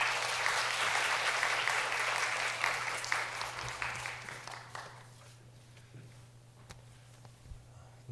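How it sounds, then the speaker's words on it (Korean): Church congregation at a Friday prayer service applauding to welcome a pastor to the front, a dense, sustained clapping that rises quickly, then thins and fades over several seconds, with a steady low hum underneath. "우리 감사하는 마음과 또 하나님께 이 시간 기대하는 마음으로 박수로 맞도록 하겠습니다."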